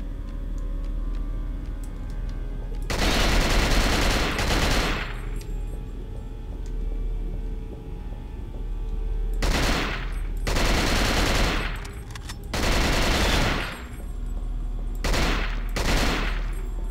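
Video game gunfire from Cold Fear comes in several loud rapid bursts over a low steady background drone, with gaps of a second or more between volleys.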